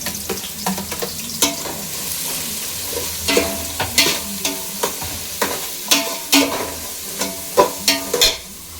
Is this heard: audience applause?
no